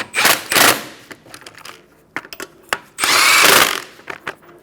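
Power tool tightening the wheel lug nuts on a 2014-2019 Kia Soul, loud close bursts of whirring and ratcheting in several short runs separated by clanks and handling noises.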